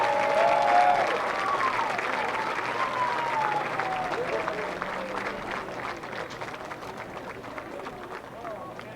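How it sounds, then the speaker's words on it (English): A stadium crowd at a college football game between Carthage and Wash U gives a broad, sustained round of applause, diffuse and steady. A voice speaks over the PA early on. "Let's give them a round of applause."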